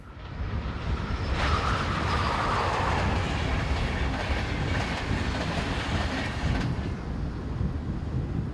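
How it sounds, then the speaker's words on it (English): Electric locomotive 101033 hauls a Berlin to Amsterdam passenger train west past a signal box, a steady rumble of wheels with faint clickety-clack passing fairly close, no voices. "101033 heads west, past the box, hauling the 1223 from Berlin to Amsterdam"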